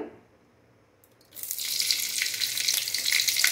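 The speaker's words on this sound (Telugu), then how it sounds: "ఇది కొంచెం వేడి అయిన తర్వాత గ్రీన్ చిల్లీస్ వేస్తున్నాను" Green chillies drop into about three tablespoons of hot oil in a pan, and a sudden bright, loud sizzle starts after a quiet moment and then holds steady and close.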